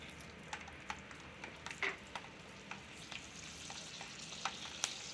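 Garlic cloves sizzling in hot oil in a pan for a tangy tamarind-leaf and dried red chilli chutney, a steady soft crackle with small sharp pops scattered throughout, close and alone without voices.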